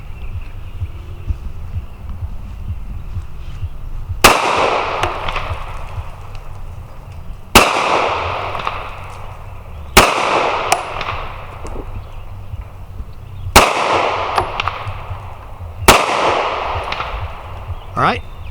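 Beretta APX Carry pistol fired five times at a shooting range: five loud, sharp cracks spaced a few seconds apart, each trailing off in a brief echo over low background rumble.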